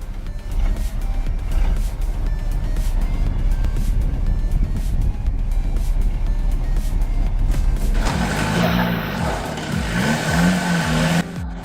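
A plow truck with tire chains climbs an icy, snowy hill, its engine droning loudly and steadily, then rising into a higher revving strain near the end.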